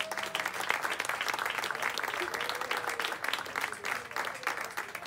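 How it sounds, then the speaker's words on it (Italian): Applause from a seaside chalet crowd for the kitchen staff at a comedy evening, steady dense clapping lasting throughout with a faint whistle or voice tone drifting over it. "applauso alla cucina"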